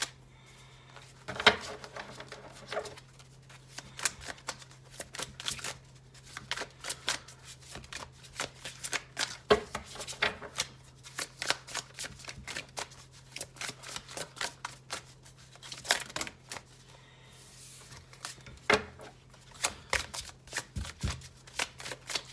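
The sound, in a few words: tarot cards being shuffled, Gilded Tarot deck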